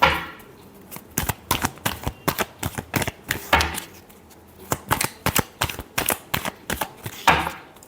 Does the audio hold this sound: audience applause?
no